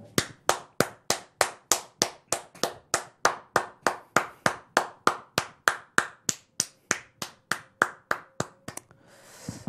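Steady, fast rhythmic clapping of a standing ovation, about three sharp claps per second held evenly for nearly ten seconds, close and loud, with no talk over it.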